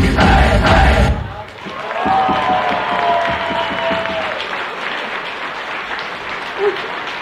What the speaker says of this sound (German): vielen Dank für Ihren herzlichen Applaus